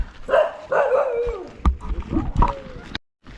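Dogs in a village yard bark and yelp in short bursts, with a couple of sharp barks in the middle, mixed with nearby speech before the sound cuts off abruptly.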